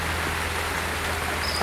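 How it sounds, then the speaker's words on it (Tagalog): Rain falling steadily outdoors during an airgun hunting outing, a dense even wash of noise that stays constant throughout with no talk. "Yan na naman ang ulan."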